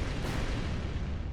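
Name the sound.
explosions in the Purgatory 2 video game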